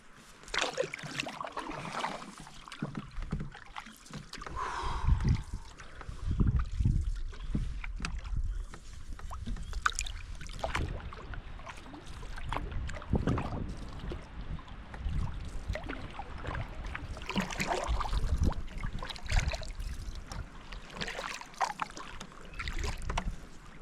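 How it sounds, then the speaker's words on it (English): A wooden paddle strokes through the water from a canoe on a solo camping trip, giving repeated soft splashes and gurgles in an uneven rhythm over light background wind. "The old trusty wooden canoe paddle."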